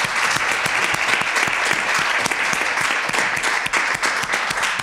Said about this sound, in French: on peut re-applaudir tous les participants bien fort